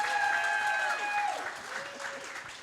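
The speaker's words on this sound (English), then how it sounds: "please give them a big round of applause and enjoy the last panel" Conference audience applauds a panel as it takes the stage; steady crowd clapping throughout, slowly easing off, with a brief musical tone fading out at the start.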